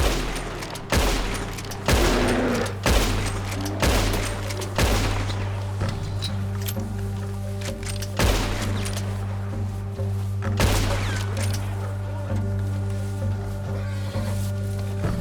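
Gunfire in Red Dead Redemption 2 rings out as a string of sharp, loud shots spaced a second or two apart over a low sustained game ambience, fading to quieter rumbling toward the end.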